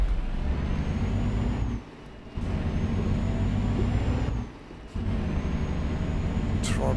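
Truck air brakes in Euro Truck Simulator on Paris streets, steady low engine rumble with two short dips where the brake hiss cuts in, ending in a brief sharp release burst near the close.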